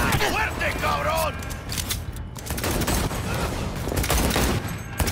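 Bursts of gunfire in the video game Cyberpunk 2077 rattle under excited talking and a shouted voice, with dense, loud shots continuing across the moment amid mechanical clatter.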